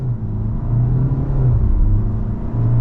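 BMW 520d M Sport LCI diesel sedan with a 190-horsepower engine accelerating, a loud, close, steady rising engine drone and whir heard alone.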